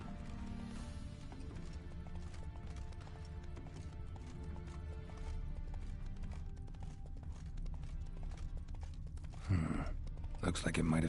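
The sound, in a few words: horse Roach hooves clip-clopping, from the video game The Witcher 3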